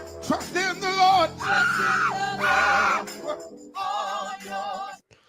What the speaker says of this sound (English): He just starts screaming for no reason